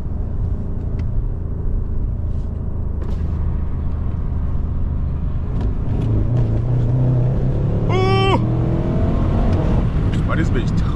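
Stock BMW M550i V8 engine accelerating, a deep rumbling drone that swells louder midway, with someone talking over it and a brief tonal squeal near the end.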